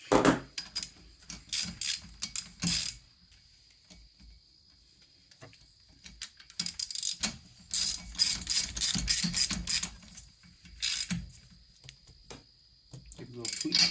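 A ratchet fitted with a 13/16 spark plug socket tightens the spark plug on a PW50 minibike, giving quick bursts of sharp clicking separated by pauses.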